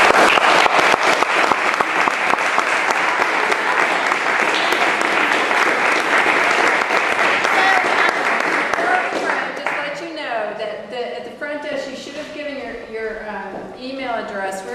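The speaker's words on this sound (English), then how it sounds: "Let's give Missy a round of applause." Audience applause at a nonprofit fundraising professionals' program, loud and dense for about ten seconds, then thinning out as a speaking voice takes over and continues.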